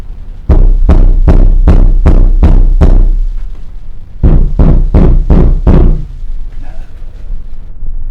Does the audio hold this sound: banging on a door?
yes